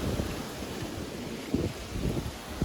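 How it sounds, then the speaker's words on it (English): Gusty wind buffets the microphone at a lakeside campsite on Lake Mohave, with low rumbling bursts, steady background noise rising and falling without any voices. "so it's a bit windy. You can probably hear it,"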